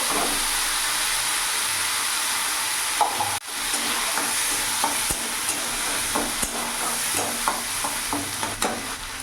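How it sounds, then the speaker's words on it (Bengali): A spice mix goes into hot oil tempered with dried red chilli, black cumin and a bay leaf, sizzling loudly and steadily at close range while a spatula scrapes and clicks against the pan in irregular strokes. "ফোড়নটা ভাজা হয়ে গেছে, এবার এখানে মশলাটা দিয়ে দেবো।"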